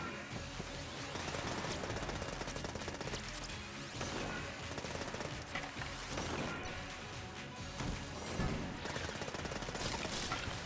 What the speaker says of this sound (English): I'm firing so many bullets because of that, that item I got.